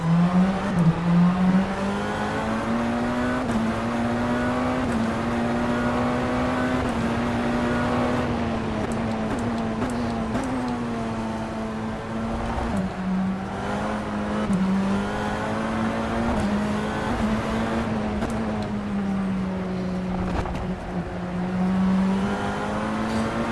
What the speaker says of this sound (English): it's got more road noise than all the other cars so far for some reason